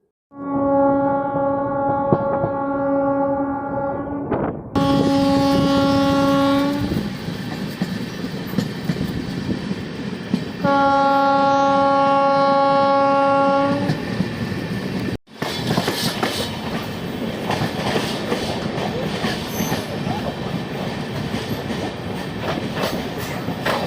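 Chauri Chaura Express running between Kanpur and Gorakhpur, heard from a 3rd AC coach: a steady loud rumble and clatter of wheels on rails, with long horn blasts sounding twice during the first fifteen seconds.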